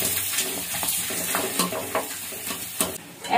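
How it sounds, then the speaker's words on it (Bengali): Potato chips fry in hot oil in a home kitchen, a close, crackling sizzle with bursts of bubbling and a few sharper pops as they are stirred, with no talking. "চিন্তা করে চিন্তা করে ভাবলাম চিপস ভাজি।"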